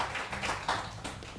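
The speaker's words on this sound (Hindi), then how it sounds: "इनके लिए बहुत सारी तालियां जी." Studio audience applause on a morning talk show as a guest is welcomed, a short burst of brisk clapping at moderate level.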